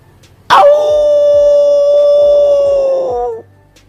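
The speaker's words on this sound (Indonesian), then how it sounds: "malam banyak anjing menggonggong" A single dog howls at night, one loud, long, steady note that holds for about three seconds and then stops abruptly, with no other sound around it.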